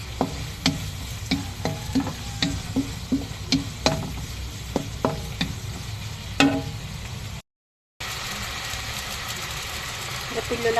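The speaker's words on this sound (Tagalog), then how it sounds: "Diyan ko na lang din siya gigisa." Pancit aromatics are sautéed in leftover adobo oil, with a steady sizzle under repeated sharp clinks of a utensil scraping and stirring the pan, close and clear, broken by a short gap of silence.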